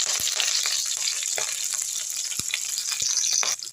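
Curry leaves crackle and sizzle as they hit hot oil for a chow chow kootu, a loud steady fry with a few sharp pops spread through.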